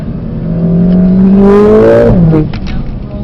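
A Mercedes-AMG car driving and drifting on a track, its close engine revving and climbing in pitch under throttle, then dropping sharply as power comes off, with tyre and wind noise.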